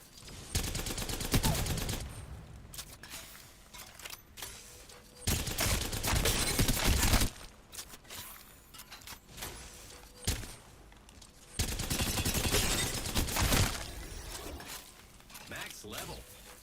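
Havoc rifle fire in Apex Legends ranked play, several loud automatic bursts separated by quieter gaps, close and punchy, with a voice talking at times.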